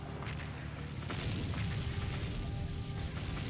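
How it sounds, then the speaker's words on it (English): Low rumbling booms and bursts of video game explosions, several blasts blending into a dense, noisy roar that swells midway; no voices. "Smash everything. Explosions."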